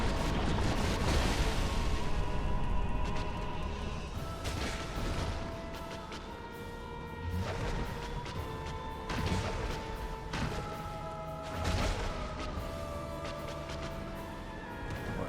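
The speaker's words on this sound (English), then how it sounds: "Watch out, explosion." Quelaag's lava explosion in Dark Souls Remastered bursts as a loud, dense rumbling crash at the start, then settles into ongoing booming thuds and impacts from the boss battle.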